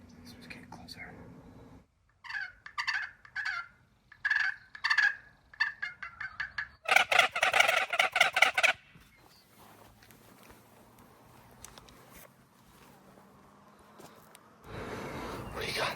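Wild turkeys in the desert gobble in a series of sharp, rattling bursts at middle distance, one loud cluster standing out, with quiet whispering voices nearby.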